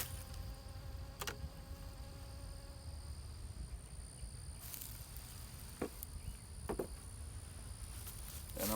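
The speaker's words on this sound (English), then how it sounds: "we're fixing to drop bees in here" Soft, steady buzzing of bees from a swarm hums throughout, with a few faint clicks and taps now and then as they are dropped into a box; no voices.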